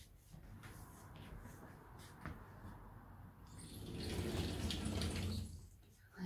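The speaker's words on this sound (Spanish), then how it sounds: "Pasa por agua." Water from a running tap rinses something at a faint level, with soft hissing and shuffling that swells louder partway through and then fades.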